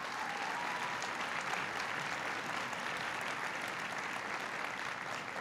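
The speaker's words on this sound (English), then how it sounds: "Please give him a big round of applause." A large audience at a political speech in Milwaukee breaks into steady, sustained applause, a dense wash of clapping that holds at even loudness for several seconds with no voices over it.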